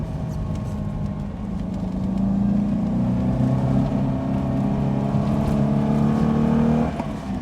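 A Reliant Scimitar GTE with its Ford V6 drones steadily while driving at moderate revs, a low sustained hum with a rising tonal whine, heard from inside the car without talk.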